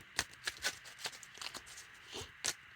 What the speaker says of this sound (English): And just give these cards a shuffle.